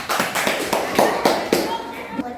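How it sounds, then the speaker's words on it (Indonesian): Students in an Indonesian classroom give a short round of applause, quick overlapping hand claps forming a steady broadband patter for a couple of seconds, with voices faintly mixed in. "Ya, tepuk tangannya."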